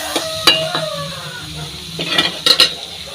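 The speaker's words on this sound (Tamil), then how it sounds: "நல்லா பாத்திரத்தில் பிடிச்சிடாம வதக்குங்க" Eggplant curry cooks in plenty of oil in a pan: a soft sizzle runs under sharp metallic clinks and scrapes from the stirring spoon, several knocks arriving in quick bursts.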